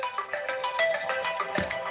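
A phone ringtone rings in a classroom lecture setting, a loud, bright electronic melody of repeating tones that plays alone and close for about two seconds.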